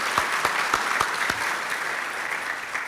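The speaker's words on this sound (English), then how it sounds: "let's give the people that put this together a round of applause" An audience at a disaster preparedness conference gives a round of applause, steady crowd clapping with a few sharp, distinct claps standing out near the start.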